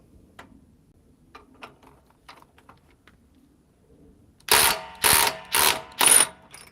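A DeWalt XR DCF870 hydraulic impact driver fires four loud, close, evenly spaced bursts of hammering in quick succession, following a stretch of faint scattered clicks.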